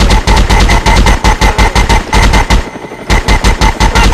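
Loud rapid automatic gunfire from a video game comes in dense bursts with one short lull partway through.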